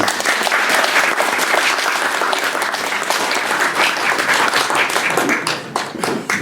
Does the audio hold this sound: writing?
no